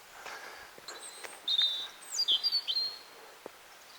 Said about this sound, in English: there's a bird up there, it sounds a bit like a blackbird